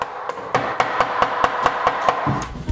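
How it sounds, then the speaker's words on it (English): A hammer bangs against a wooden crib, about ten sharp, evenly spaced strikes in quick succession, loud and close with nothing else over them. "I'm hitting my crib with a hammer"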